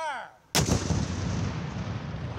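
A reenactment cannon fires a single loud, close blast that cuts off a voice, followed by a long rumbling, rolling echo that slowly decays.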